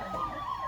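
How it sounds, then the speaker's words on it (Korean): An ambulance siren wails faintly from outside a classroom, a wavering tone drifting up and down beneath background room noise, with no speech in the moment. "구급차 같은데"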